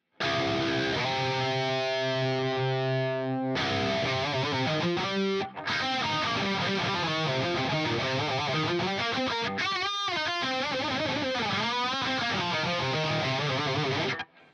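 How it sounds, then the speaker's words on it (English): Electric guitar played through an Axe-Fx III with a slow rotary-style modulation, depth turned down; sustained chords and then busier melodic phrases ring out loud and close, with a brief break midway and no talking. "Which isn't too dissimilar to a sort of rotary kind of sound"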